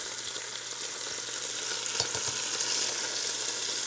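Garlic sizzles in a soup pot, a steady close crackling fry with a few brief clinks or stirs in the middle, heard alone without talk.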